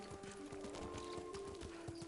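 A horse's hooves clop in a quick, steady gallop while riding in the video game Ghost of Tsushima, with a constant low hum of game music underneath.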